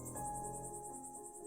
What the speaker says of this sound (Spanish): Solo se oían los grillos